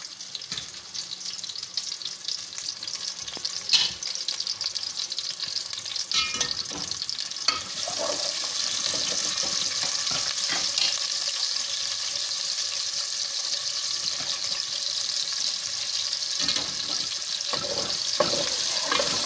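Onions sizzle steadily in a pan while being lightly browned for palak gosht, with occasional stirring scrapes and clinks over a constant hiss. There is no talking.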